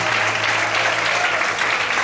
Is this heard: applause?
yes